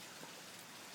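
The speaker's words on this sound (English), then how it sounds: "A lot of rain today." A brief burst of storm rain pours down in a constant hiss, with no gaps or voices.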